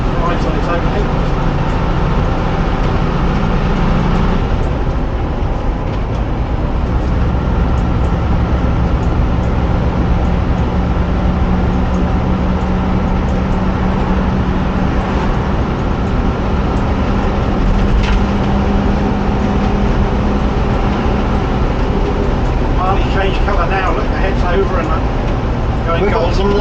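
Bedford YMT bus with Duple Dominant II coachwork running on the road, a loud, steady engine drone with rumbling road noise from on board and people talking over it throughout.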